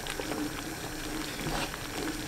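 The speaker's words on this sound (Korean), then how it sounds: "간 고구마를 센 불로 끓입니다. 저어가면서 끓여야 바닥에 눌어붙지 않아요. 보글보글 끓기 시작하면" Ground sweet potato porridge boils over high heat in a pot, giving a steady thick bubbling and soft popping that carries on evenly, close up and without talk.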